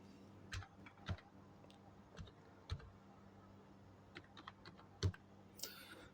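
Password being typed on a computer keyboard to log in to an IP camera, a string of quiet, irregular key clicks with one sharper keystroke near the end, alone against faint room hiss.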